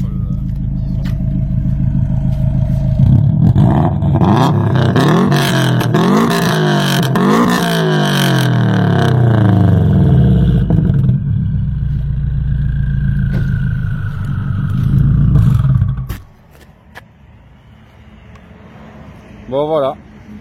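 A Subaru Impreza WRX STI engine revs hard behind the car, rising and falling in several loud surges over a deep rumbling idle, then cuts off abruptly, leaving faint background noise and a brief sound near the end.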